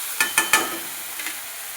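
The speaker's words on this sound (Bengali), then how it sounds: "ভালো করে মশলাটা কষিয়ে নিচ্ছি।" Ground spice paste frying in a pan while being stirred for mochar ghonto, a Bengali dish of banana blossom with mung dal: a soft steady sizzle broken by three quick scraping strokes, then two fainter ones.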